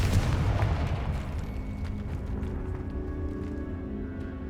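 Fiery Confringo spell explosion in the video game Hogwarts Legacy: a loud burst at the start that settles into a sustained low rumbling roar, heard alone.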